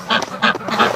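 Ducks quack repeatedly inside a barn, three loud nasal calls in quick succession, close by with no talk over them.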